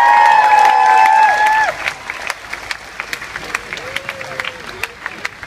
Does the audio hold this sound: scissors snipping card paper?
no